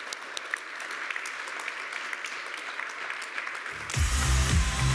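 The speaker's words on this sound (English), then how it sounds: "Please give a big round of applause to the panelists" Conference audience applauds panelists on an event stage, a steady patter of clapping with a few crisp claps, before a loud burst of music or booming sound cuts in near the end.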